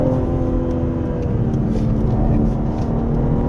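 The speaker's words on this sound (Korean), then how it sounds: "지금 배기 사운드는 켜놓은 상태입니다" A 2023 BMW G81 M3 Touring with its exhaust sound mode on, accelerating on a winding mountain road: a steady, loud engine drone with a constant low hum and no pauses.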